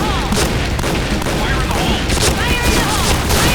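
Point Blank first-person shooter match: dense, continuous gunfire and explosive booms fill the whole stretch at high level, a player getting hit amid rapid overlapping shots, with excited talking over the din.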